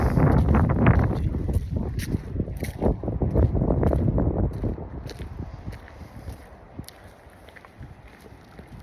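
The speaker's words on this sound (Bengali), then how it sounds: "আবার বাতাস একটু একটু" Wind blowing in gusts during light snowfall outdoors, a rough rushing buffet against the microphone that is strongest early and then eases to a fainter hiss, with a few soft scuffs like footsteps.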